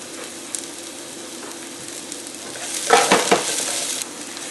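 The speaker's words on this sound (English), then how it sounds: "Saute for about a minute, cooking them on high heat until everything are cooked." Vegetables, including carrots, sauté on high heat in a pan with a soft steady sizzle, then a brief louder burst of stirring and tossing near the end.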